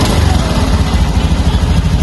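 A motorcycle engine with an idling-stop system fires back up when the throttle is pulled, running as a loud, close, steady rumbling idle with a fast chugging pulse.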